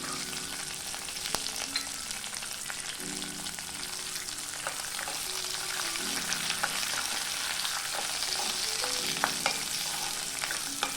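Curry leaves, green chilli slits and peanuts frying in hot oil for tamarind rice, a steady close sizzle with scattered crackles and occasional stirring clinks throughout, no voices.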